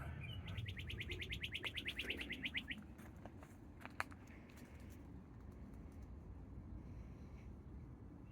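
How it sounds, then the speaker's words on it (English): Birds chirp and sing in a cemetery in Nashville, opening with a rapid repeated trill, then scattered sharp tweets over a steady outdoor background hum; moderately close and fairly faint. "Now the bird's gonna be quiet now."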